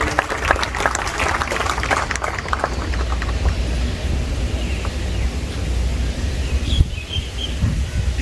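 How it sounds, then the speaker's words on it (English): An audience claps at a school investiture ceremony, the applause loud and dense at first, then thinning into scattered claps over room noise. "Everyone please applaud."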